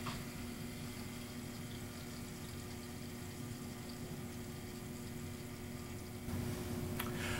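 Hydronic air separator in a circulating water loop, a steady pump-like rush and watery hiss as air bubbles are cleared, continuous and fairly close, rising slightly near the end.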